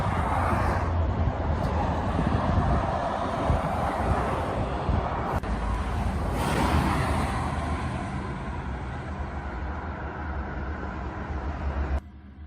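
Fast road traffic rushes past on a busy road near a pedestrian crossing, loud swelling whooshes of passing vehicles with wind buffeting the microphone, gradually easing toward the end.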